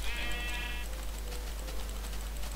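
Sheep bleating in the Minecraft video game, a few strained harmonic bleats early on, then steady game ambience with light clicking and no voices.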